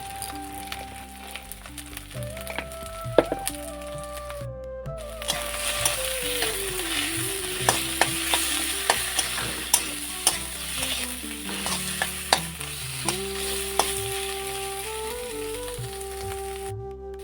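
Pabda fish frying in a pan as salt and turmeric go in, with a steady close sizzle, stirring scrapes and occasional clinks running throughout alongside a low background hum.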